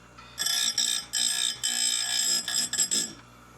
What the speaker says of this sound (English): this is the Timber Tough bench grinder, and you just barely want to nick these things